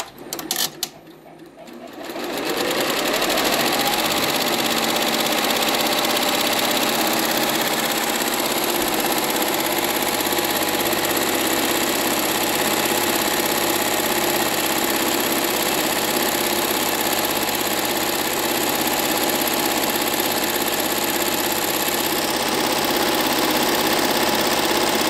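A Barudan multi-head embroidery machine stitches a name with a fast, steady mechanical whir and rattle that holds loud and even throughout after a short start-up at the beginning.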